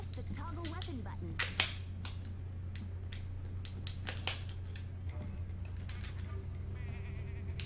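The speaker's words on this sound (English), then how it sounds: "Now your staff can work as a blowgun. Try to use the acorns to hit things that are far away." Acorns fired from a staff used as a blowgun in the video game Tak and the Power of Juju, giving a string of sharp snapping pops, some close together, over a steady low game hum with faint chirps.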